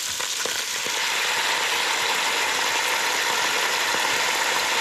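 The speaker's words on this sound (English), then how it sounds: "I'm going to put it into a pot that's got a little oil in the bottom of it. And then slide in this pork roast." A two-pound pork roast browns in a little oil at the bottom of a pot, giving a steady, even sizzle and crackle that holds unbroken throughout, close and moderately loud.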